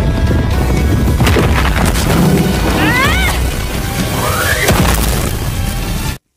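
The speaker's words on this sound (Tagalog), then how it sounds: "Ilang saglit pa ay dumating sina Sonic at Genos na naglalaban kaya sumabog ang lugar." Anime fight scene where the place blows up: loud crashing booms and impacts over dense battle effects and music, with a rising whoosh near the end before an abrupt cutoff.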